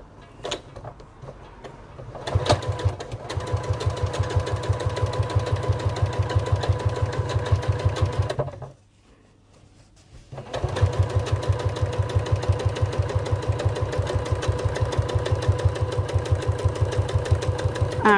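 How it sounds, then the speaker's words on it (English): A sewing machine top stitches along a fabric bag in long, steady rapid bursts, loud and close, stopping briefly midway before resuming at the same even pace. "So I'm just going to top stitch along."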